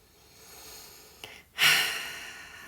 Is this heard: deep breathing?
yes